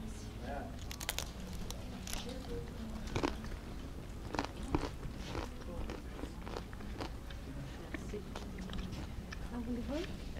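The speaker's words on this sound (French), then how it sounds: "qui nous a amenés à célébrer la vie de Yeshua en mangeant cette matzah" People eating matzah during a Passover meal, with repeated crisp crunches and chewing bites close by, scattered over steady room noise and faint background voices.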